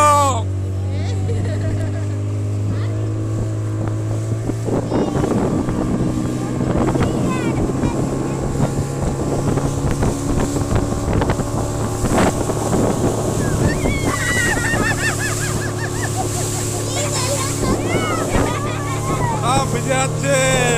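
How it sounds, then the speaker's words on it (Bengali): A speedboat runs across a reservoir at Maithon in strong wind, a loud, steady engine drone with wind buffeting and water splash throughout, close to the microphone, with voices talking beneath the noise. "প্রচন্ড হাওয়ার মধ্যে স্পিড বোটটা চলছে,"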